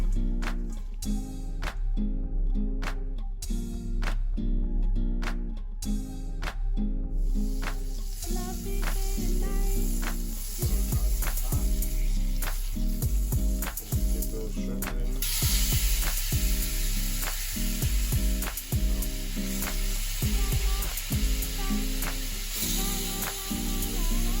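Shrimp fry with garlic in a pan, giving a steady close sizzle and hiss. Utensil clatters and taps break through now and then.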